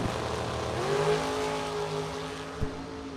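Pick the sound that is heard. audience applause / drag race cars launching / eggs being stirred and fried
drag race cars launching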